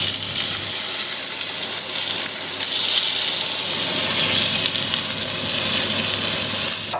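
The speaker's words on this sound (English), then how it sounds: "That's the first steak, that's my steak going in. Lovely sound of sizzling." A steak sizzles steadily in a hot pan, a bright continuous crackling hiss close by, with no one speaking.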